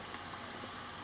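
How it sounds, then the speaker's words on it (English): Two short bursts of a high electronic alarm clock tone sound, each about a tenth of a second long, over a quiet background. No one speaks. "Oh, sorry. Alarm."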